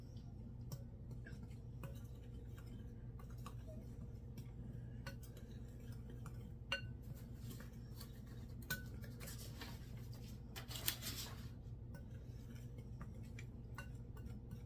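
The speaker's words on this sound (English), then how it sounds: "We're going to stir this all together." Spoon stirring keto yeast bread ingredients in a dry bowl, faint repeated clinks and scrapes against a low steady background hum, quiet and close.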